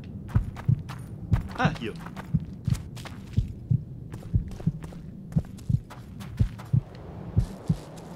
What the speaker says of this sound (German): aber dieser Herzschlag die ganze Zeit bei dem Katzentrank ist auch irgendwie komisch